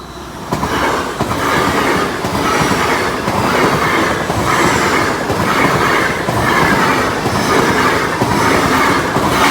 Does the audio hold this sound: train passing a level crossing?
yes